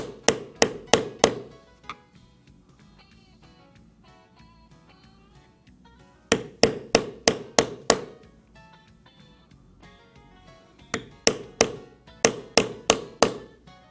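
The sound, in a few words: stamping tool struck into leather, embossing a pine cone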